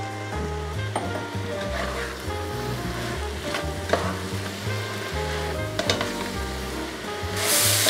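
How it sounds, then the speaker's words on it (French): Vegetables and crushed garlic sweat in a pan for a Basque chicken piperade, giving a steady close sizzle with occasional stirring knocks and scrapes, alone without talk. "On va laisser suer les légumes avant de poursuivre la cuisson."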